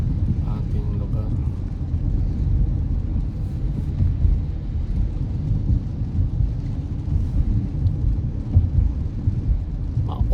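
Heavy afternoon rain drums steadily on a car driving home in Canada, with low rumbling road and engine noise underneath and occasional thunder-like swells; no one speaks.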